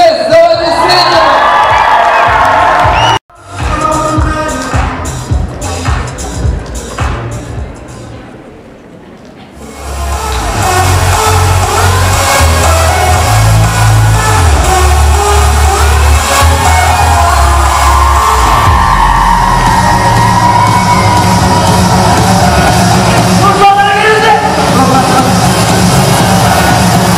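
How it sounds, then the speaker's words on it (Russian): Audience at a KVN semifinal game cheering, whooping and applauding as a team bursts onto the stage, loud crowd roar with music, a brief drop in the middle, then a sustained swell. "Мы на эту сцену врывается в овации команда КВН КНКС. Давайте встретим!"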